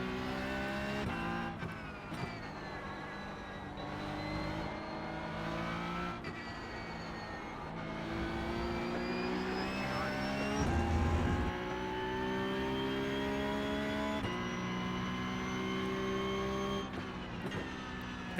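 Racing car engines in a racing video game whine continuously, pitch climbing and falling through gear changes and braking for corners, with a brief tire squeal, loud and sustained without talk.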